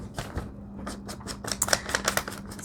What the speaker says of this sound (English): loving the crinkly sound of paper today